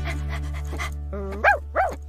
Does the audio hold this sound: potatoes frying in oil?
no